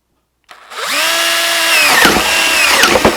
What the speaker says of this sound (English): that is where you're going to drill your hole